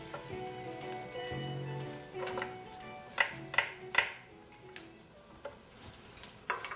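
Sliced garlic sizzles as it fries in a pot for minestrone soup, a soft steady crackle broken by a few sharp clinks of a utensil against the pot, with no talk.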